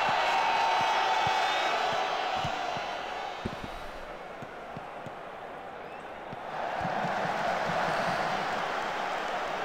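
Stadium crowd noise from the Football Manager 2022 video game at a season opener, a broad roaring wash of voices that dips in the middle and swells again, with faint thuds beneath.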